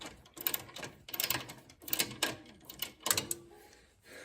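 A 3/4 ratchet turns a loosened pivot axle bolt on a John Deere L130 lawn tractor, sounding as close, quiet bursts of rapid clicking, several short strokes separated by brief pauses.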